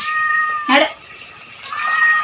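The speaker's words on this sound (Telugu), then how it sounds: "క్యాట్ వచ్చింది ఎమ్మటే వాసన పసి కట్టింది క్యాట్" A cat meows twice beside a kitchen where fish is being fried, one clear rising call followed by a softer one, close and loud over a quiet background with a faint hiss.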